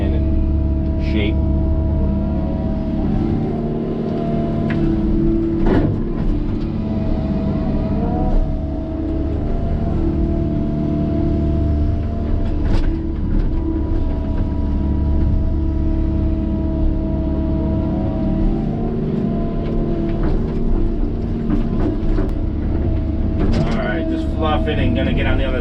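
A warmed-up excavator's engine idles and its hydraulics churn steadily on a dusty dirt-pile site work job, a continuous low mechanical drone with occasional clanks, while someone talks over it throughout.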